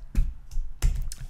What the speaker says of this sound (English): I can't type on my keyboard.